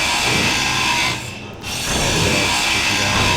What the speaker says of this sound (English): we'll weld that one back up